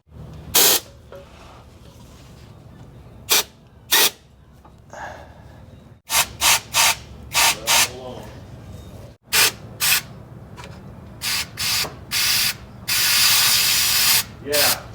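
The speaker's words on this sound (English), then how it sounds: "let's blow through the lines first" Compressed air blasts through the old fuel lines of a 1962 Cadillac DeVille after 30 years parked, in a series of short, loud hissing bursts with pauses between them, ending in one longer sustained blow.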